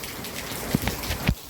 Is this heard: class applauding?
no